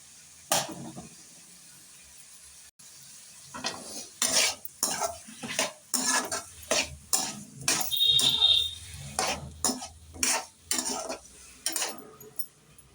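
Bottle gourd sautés in a pan and is stirred with a spoon, a soft sizzle underneath repeated close scraping and clinking strokes that come in quick irregular bursts.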